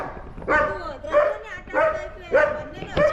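A pet dog in a house where a cobra was spotted barks about five times in quick succession, each bark sharp and close with short pauses between them.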